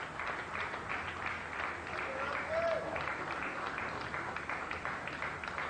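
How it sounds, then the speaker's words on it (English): Crowd applause in the cricket video game Cricket 2002, from the balcony during a Pakistan vs Australia Test, a steady broad wash of clapping running throughout beneath a commentator's voice. "getting a standing applause from the balcony there"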